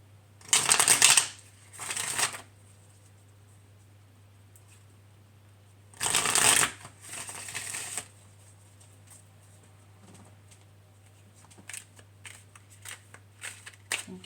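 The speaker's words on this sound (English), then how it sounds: "Shuffle a little bit more." Tarot cards are riffled and shuffled in a few short, crisp bursts, close and clear against a faint steady hum, with soft taps and handling noises between shuffles.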